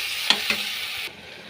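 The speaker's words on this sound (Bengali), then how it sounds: "ভালো করে নেড়ে করে ভেজে নেব" Food stirs and fries in a pan with a soft continuous sizzle, broken by two quick scraping strokes near the start before the hiss drops quieter.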